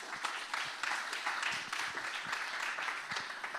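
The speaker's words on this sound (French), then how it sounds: "On les applaudit, s'il vous plaît." An audience at a French conference on industrial biotechnology applauds steadily, a dense, even wash of many hands clapping that fills the room from start to finish without any voices over it.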